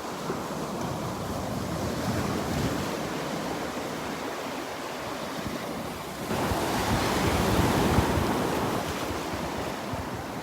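Small ocean waves break steadily on a Gulf beach at Delnor-Wiggins, a continuous wash of surf with wind buffeting the microphone, swelling louder midway as a nearer set rolls in.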